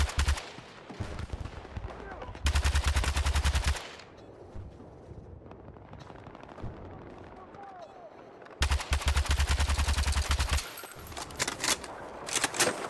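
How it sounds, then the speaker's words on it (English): Machine gun fire in Battlefield 6, two long rapid automatic bursts each lasting over a second, close and loud, separated by quieter battlefield ambience with scattered distant shots and faint voices. "Eyes on a machine gun!"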